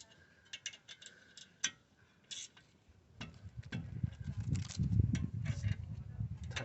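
A ratchet tightens brake caliper bolts on a VW Passat B8, starting with a few sparse clicks and then turning into a steady run of close ratcheting strokes with mechanical rattling.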